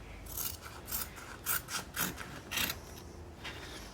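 Cutting a Clonmel gazebo side panel cover, heard as a run of short, rasping snips in an irregular rhythm, several louder cuts clustered mid-way, close by and with no talking.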